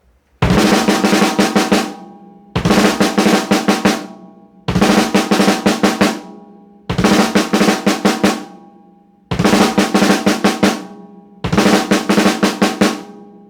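Rough bass drum pattern played alone ahead of a snare fill for a song, heard as six loud repeated phrases, each a rapid burst of close hits that decays into a short gap before the next.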